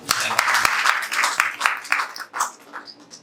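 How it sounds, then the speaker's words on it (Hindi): Audience applause at an award ceremony honouring successful BPSC exam candidates: a burst of crowd clapping, dense and fairly loud, fading somewhat toward the end. "एक जोरदार तालियां"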